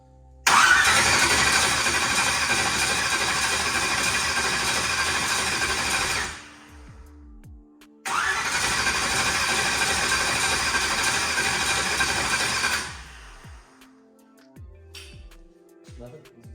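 A newly built car's starter cranks in two long bursts of about six and five seconds, a steady loud whirring grind that never catches, each ending in a brief wind-down, with short pauses and faint clatter between.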